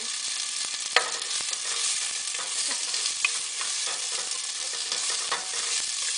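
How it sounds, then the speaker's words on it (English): Onions browning in olive oil for homemade marinara sauce, a continuous close sizzle with repeated scraping stirs of a spoon across the pan. "so we see that the onions are browning and that the oil has dried up a little"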